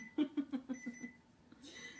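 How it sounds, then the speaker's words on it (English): A kitchen timer goes off during shortbread cookie baking, sounding a run of about five evenly spaced beeps that fade, followed by a brief softer electronic tone, fairly close and alone with no talking. "That's our timer."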